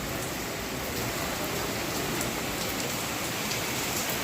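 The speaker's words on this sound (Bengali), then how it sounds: "পুরো একদম ঝমঝমিয়ে পুরো বৃষ্টি নেমেছে।" Heavy rain pours down at night, a dense, loud, unbroken hiss of drops drumming on surfaces with no pauses.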